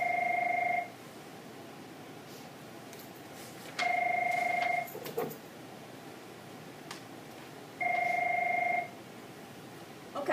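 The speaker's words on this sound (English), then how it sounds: "sorry about that phone" A telephone rings in three evenly spaced bursts of two-tone electronic trilling, each about a second long, over a faint hissing room background with small rustles between rings.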